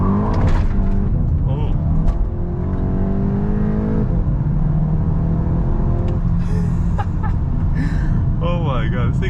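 A 2022 VW Golf GTI accelerates hard at full throttle, its engine note climbing steadily through the gears with a rising whine, close up from the cabin with a person talking over it.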